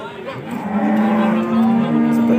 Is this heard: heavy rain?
no